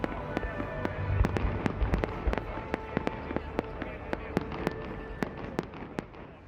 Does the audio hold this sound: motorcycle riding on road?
no